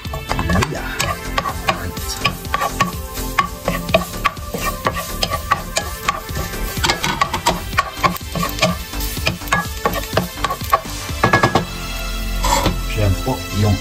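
Ginger dropped into hot oil while cooking ginataang crawfish with kalabasa, giving a steady close sizzle and frying crackle with frequent stirring scrapes and utensil clinks against the pot throughout.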